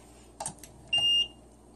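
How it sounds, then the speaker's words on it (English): A 100ml LED ultrasonic music aroma diffuser gives a single clear electronic beep as it switches on, preceded by a few soft clicks and handling noises in a quiet room. "There's the beep to tell you that it's on."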